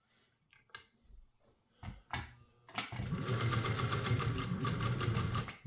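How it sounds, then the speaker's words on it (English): After a few scattered knocks and clicks, a sewing machine starts up and stitches elastic, foam and webbing together with a loud, steady, rapid mechanical chatter that continues to the end. "So I'm sewing the elastic, the foam, and webbing together."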